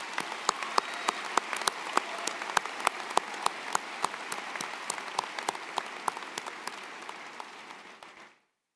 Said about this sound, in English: Please give these fine seniors a round of applause.